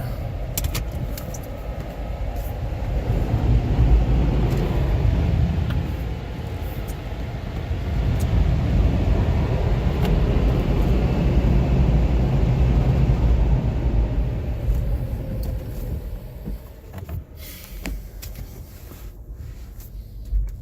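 An automatic car wash runs over a 2015 Infiniti Q50 in Georgia: a steady, loud rush of spraying water and machinery that swells and eases, with scattered rattles and knocks, easing off near the end.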